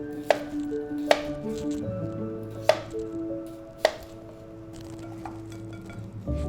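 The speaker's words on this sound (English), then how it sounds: "I'm gonna cut them to the same size, or roughly the same size" A kitchen knife chops potatoes on a cutting board, giving about four sharp, separate knocks at an uneven pace, close and distinct over low background noise.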